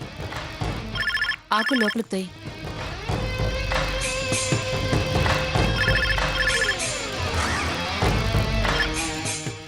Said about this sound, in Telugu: నేను ఫోన్ చూసొస్తాను